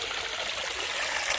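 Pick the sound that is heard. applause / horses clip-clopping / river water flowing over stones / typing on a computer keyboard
river water flowing over stones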